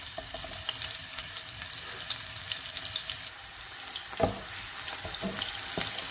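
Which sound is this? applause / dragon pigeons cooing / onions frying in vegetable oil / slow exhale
onions frying in vegetable oil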